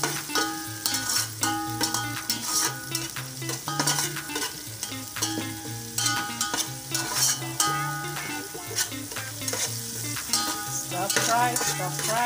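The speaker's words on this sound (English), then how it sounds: "and oil. Mix it all together." Onions and oil for chicken vegetable fried rice stir-frying in a pan, with a steady sizzle and repeated scraping and clinking of a utensil against the metal.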